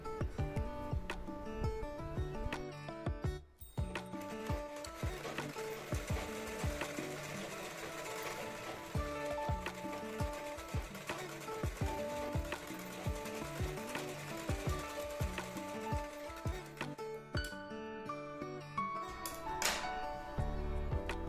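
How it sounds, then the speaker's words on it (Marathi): A sewing machine stitches a blouse, its needle running in a steady mechanical whir with rhythmic clicking and short pauses and restarts, close and continuous, with no talking. "आता मी इथे पुन्हा एकदा स्टिच मारते."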